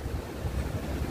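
Sea waves wash onto a palm-lined beach at Gagra in Abkhazia, a soft continuous surf rumble mixed with light wind noise and no voices.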